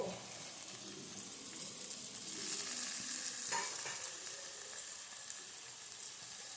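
Carrot, garlic and capsicum are stir-fried in a pan, giving a faint, steady sizzle with soft stirring scrapes and no voices.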